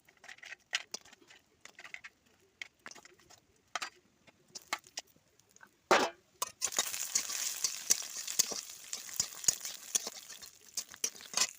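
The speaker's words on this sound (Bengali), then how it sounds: "ঝুলের জন্য আমি তেলটা একটু গরম করে নেবো দিয়ে তার আগে একটু বড়িগুলো ভেজে নেবো" Lentil dumplings (bori) fry in hot oil, with sparse crackles and pops at first, then a denser steady sizzle after a sharp clatter midway, close and fairly quiet with occasional stirring taps.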